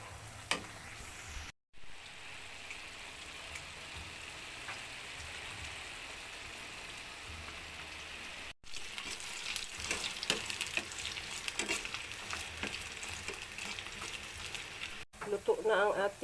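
Squid balls frying in hot oil in a pan, a steady crackling sizzle that grows busier and louder partway through, broken by brief dropouts, with a voice speaking at times.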